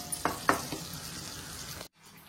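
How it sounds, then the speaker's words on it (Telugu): Goat brain pieces frying in a pan, with a low steady sizzle broken by a few sharp spatula scrapes near the start, close and quiet, ending abruptly. "ఇది ఫ్రై అవ్వాలి."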